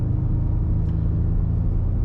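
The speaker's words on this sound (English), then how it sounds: "You can probably hear the engine just purring away in the background." 2021 Land Rover Defender engine pulling a caravan along a dual carriageway, a low, steady rumbling hum heard from inside the cabin, smooth and unbroken throughout.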